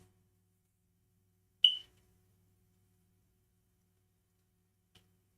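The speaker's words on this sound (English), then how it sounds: "Beeping, man. Beeps." A single sharp electronic beep sounds once, followed by a much fainter short blip a few seconds later, in otherwise near silence.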